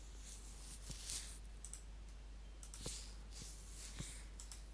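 A few faint, sharp computer mouse clicks spaced a second or so apart over a quiet background hum.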